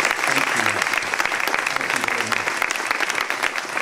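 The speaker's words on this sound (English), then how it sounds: "I think we ought to give them a round of applause" Steady, loud applause from a crowd at a plant expansion ceremony, a dense patter of clapping that continues evenly throughout.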